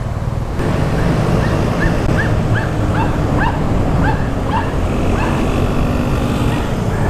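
A dog barks repeatedly, some way off, in quick uneven bursts over the steady roar of wind and engine noise from a Vespa scooter moving through traffic.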